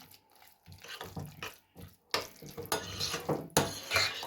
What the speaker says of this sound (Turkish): Şimdi havucumuzu karıştıralım güzel. Yoğurdumuzla.